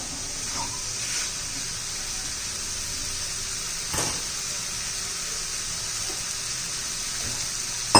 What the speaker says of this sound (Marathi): आता आपण याच्यामध्ये कोमट पाणी घालणार आहोत